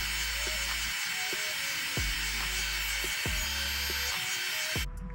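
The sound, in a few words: fishing line sawing through car badge adhesive on BMW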